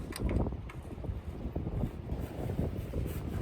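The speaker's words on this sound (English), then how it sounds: "I'm sorry about the wind. It's really bad out here today." Strong, gusty wind buffets the microphone outdoors in a steady low roar, with no voices heard.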